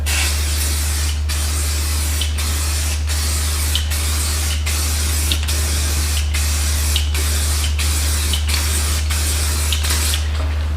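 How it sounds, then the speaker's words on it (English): An aerosol spray can hisses steadily and loudly at close range as it coats the inside of a car wheel rim, in repeated short bursts with brief pauses over a constant low electrical hum. "I'm gonna spray the inside of the rim because some of the stripper and stuff got down through the spokes."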